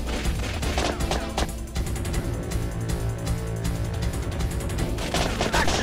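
Rapid, dense gunfire from the PlayStation shooting game Time Crisis, a continuous loud fusillade of overlapping shots lasting throughout with no pauses.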